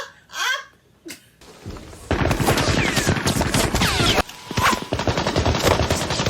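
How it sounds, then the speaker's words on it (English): Battlefield gunfire from the 1998 war film Saving Private Ryan: after a brief quieter opening with a couple of thuds, dense rapid machine-gun bursts and rifle shots fill the scene loudly, with a short gap before the barrage resumes. "why do they keep shooting him up like that?"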